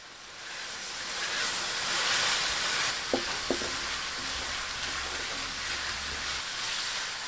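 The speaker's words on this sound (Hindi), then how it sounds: "अब इसमें लहसुन और अदरक का पेस्ट शामिल करके थोड़ा भून लेंगे।" Garlic and ginger paste fries in oil with light golden onions, giving a continuous close sizzle with a couple of brief utensil taps against the pan midway.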